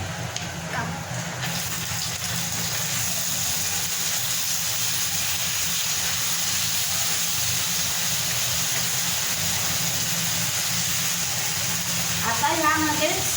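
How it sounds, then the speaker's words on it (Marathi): Two large tomatoes are added to golden-brown fried onions in a pan for a dried-shrimp sukat dish, giving a steady, loud, broad sizzling hiss throughout, with a brief clatter near the end. "आता त्यामध्ये आता आपण ॲड करूयात दोन टोमॅटो दोन मोठे टोमॅटो आहेत हे"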